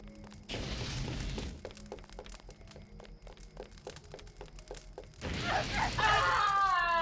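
An enemy robot in Deus Ex blows up with a sharp shattering burst, followed by a string of rapid metallic thuds and impacts, then a second loud crackling blast with ringing tones at the end.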